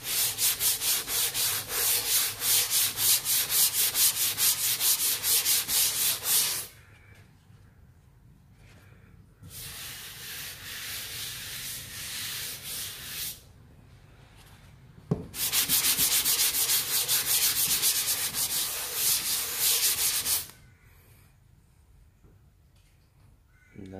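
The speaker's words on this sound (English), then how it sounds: "when you do sand, start with the edges and then a little bit in the middle" Hand sanding a dried cement plaster patch at a wall corner, heard as three long stretches of steady, close scratchy rubbing strokes with short quiet pauses between them and no talking.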